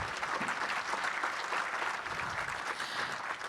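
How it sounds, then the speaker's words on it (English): An audience at a Ceph enterprise data storage keynote claps steadily, with the sound of a dense, sustained round of applause from a crowd, evenly loud throughout. "So huge round of applause to IBM for investing in Ceph"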